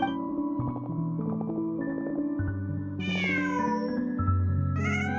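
A cat in a video game meows repeatedly, a series of clear, drawn-out calls over a steady musical background, with a couple of higher-pitched cries near the end.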